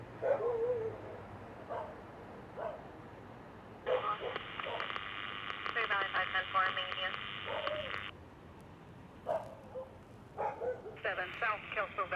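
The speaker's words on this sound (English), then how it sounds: "Sorry about the barking dogs" Dogs barking at an outdoor scene, sharp barks in short bursts and longer runs behind radio chatter and a voice.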